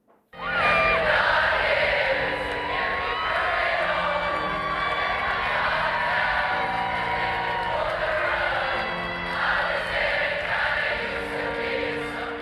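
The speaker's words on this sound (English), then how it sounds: "the crowd were very much behind him and sang his songs" Concert crowd singing along to songs, a loud, dense mass of voices carrying on steadily after a sudden start, with cheers rising and falling.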